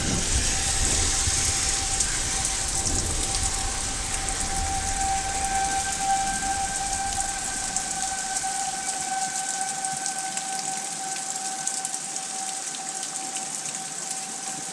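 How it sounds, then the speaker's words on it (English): Civil defense sirens for a tornado warning wail steadily in the distance over a constant hiss of heavy rain during a thunderstorm; no one speaks. "Yep, sirens are going off again."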